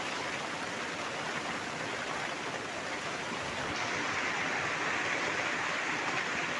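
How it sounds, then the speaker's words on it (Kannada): Steady, dense rainfall pours down over a dry village landscape of ground, grass and trees, an even hiss that swells slightly louder partway through with no voices. "ಇವತ್ತು ಫಸ್ಟ್ನೇದಾಗೆ ಒಳ್ಳೆ ಮಳೆ ಅಂತ ಇದೆ"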